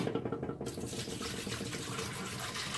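White distilled vinegar pours in a steady gushing stream into a Keurig coffee maker reservoir, the flow starting abruptly and continuing with a bubbling, filling sound.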